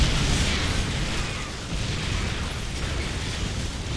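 Siege tanks being destroyed in a StarCraft match, a dense continuous roar of explosions and rumbling bursts that stays loud and even throughout, with no speech.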